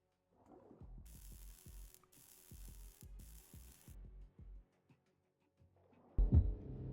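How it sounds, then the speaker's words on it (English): Welding in the underwater game Deepest Trench: a series of short mechanical bursts with hissing bright sizzle, repeated in a steady rhythm over a few seconds, then a louder rumbling burst near the end. "I think I can probably weld that"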